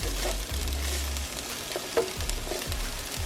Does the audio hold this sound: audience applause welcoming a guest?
no